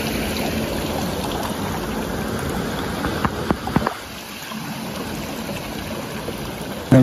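A stream flows beside Kingfisher Pool Campground in the Australian bush, a steady close wash of running water broken by a few light knocks.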